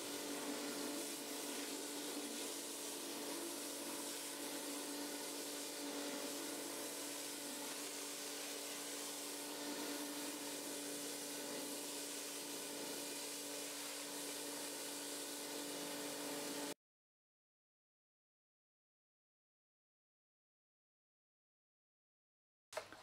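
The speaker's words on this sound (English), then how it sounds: "Cleaning a large area using the patio cleaner is a lot faster than using a traditional" A Nilfisk pressure washer with a patio cleaner attachment scrubs a patio, a steady hissing, spraying whir with a constant motor tone that runs evenly before stopping abruptly into silence.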